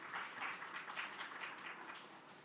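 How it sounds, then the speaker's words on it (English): Faint, steady applause from an audience at a career fair at the Islamic University in Uganda, a brief continuous patter of clapping heard from a distance. "Please give another round of applause"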